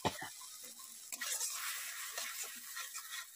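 Tomato with salt sautéed in a pan for a Bengali tomato papaya curry, a soft sizzle with spatula stirring and scraping, close and fairly quiet, a sharp clack at the start, no talk.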